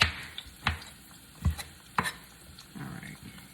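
Jackfruit being cut into small pieces with a knife, a few irregular soft thuds and scrapes on a board, close and fairly quiet.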